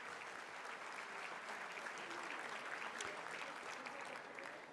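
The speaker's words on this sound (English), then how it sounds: "how about a round of applause for everybody that's here today?" Audience applause at the Y Heroes 2019 event, a steady wash of clapping from a crowd heard at a distance, fairly faint and sustained throughout.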